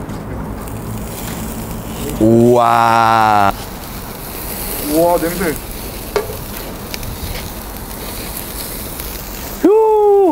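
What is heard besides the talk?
lamb marinated with basil, rosemary, pink salt sizzling on grill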